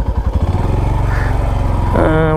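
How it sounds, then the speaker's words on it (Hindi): A motorcycle engine chugs and revs on an off-road trail along the India–Nepal border, a loud close throbbing putter that rises in pitch near the end as the bike pushes through. "बाइक निकल जानी चाहिए। निकल जा, निकल जा, निकल जा। निकल गई।"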